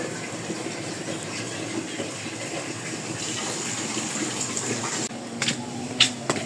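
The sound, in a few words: water being fetched, likely running from a tap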